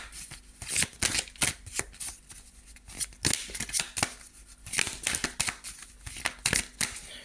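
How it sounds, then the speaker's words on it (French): Tarot cards are shuffled by hand, giving repeated riffling, flicking bursts in quick, uneven rhythm, close and fairly loud, with no talking. "Une seule carte."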